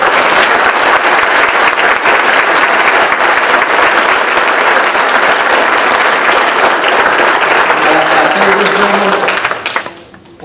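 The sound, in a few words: applause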